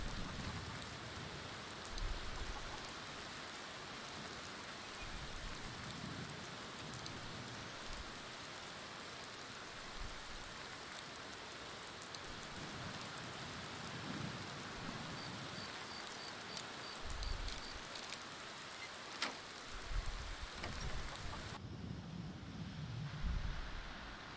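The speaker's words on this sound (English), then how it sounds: "Comes the rains again." Steady video-game rain pours throughout, a dense even hiss with occasional low rumbles, continuing unbroken until it drops away sharply near the end.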